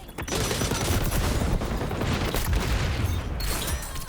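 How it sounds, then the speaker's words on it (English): A sticky grenade goes off in the shooter game XDefiant amid constant rattling gunfire and booms. The noise is dense and loud throughout, and there is no single clean blast. "Throwing sticky grenade!"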